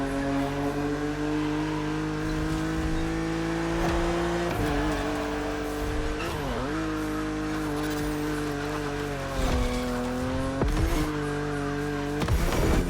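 A BMW Z4 E89 engine in The Crew Motorfest racing game drones steadily throughout, with pitch shifts, brief dips and rises as gears change and the car accelerates, loud and continuous with no talking.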